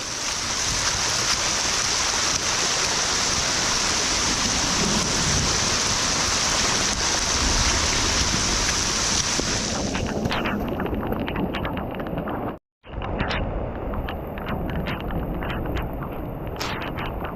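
Heavy rain pours down alongside rushing floodwater on a mountain footpath at dusk, a loud, dense, continuous roar that shifts in texture partway through and drops out for a split second before resuming.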